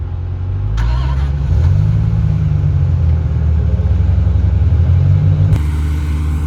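A 20-year-old stock Dodge Viper launches hard from a standing start in a drag race dig, its close engine roar climbing steadily in pitch and holding loud before easing off.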